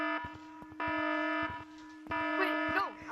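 Electronic alarm sounding inside the Gorilla Tag video game, with repeated loud buzzing beeps in an uneven on-off pattern while voices chatter over it.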